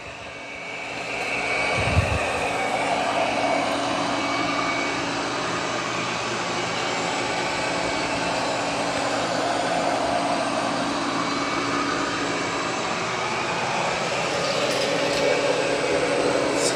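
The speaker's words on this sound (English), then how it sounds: "It's doing a good job vacuuming." A Eufy 11S Max robot vacuum circles in spot clean mode, giving off a steady, close whirring motor hum with airy suction noise that holds at an even level throughout, with no speech.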